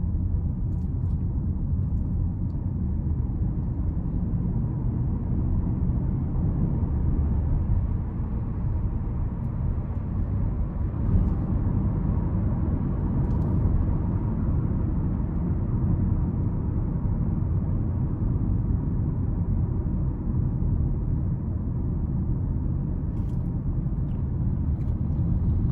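Inside a 2021 Hyundai Kona SE on the move, a steady, subdued low rumble of road and engine noise fills the cabin without a break, with no talking.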